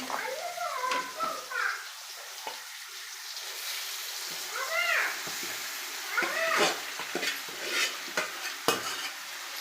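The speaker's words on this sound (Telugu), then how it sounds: "ముందుగా కలిపి పెట్టుకున్న చికెన్ని కొద్ది కొద్దిగా వేసుకొని కలుపుకొని" Marinated chicken for chicken biryani is stirred into a pot with soft, uneven scraping and light sizzling, while a cat meows several times close by.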